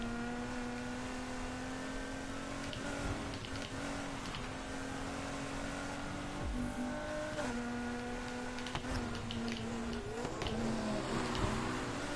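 A V8-engined car in Need For Speed Heat revs and drifts, a sustained engine drone rising and falling in pitch with shifts, occasional tire squeal, close and continuous.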